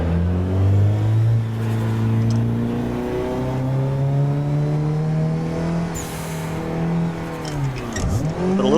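A car engine revs hard through a drift clutch kick, with a loud, sustained harmonic drone that rises and falls, then dips sharply and surges again near the end, close and alone.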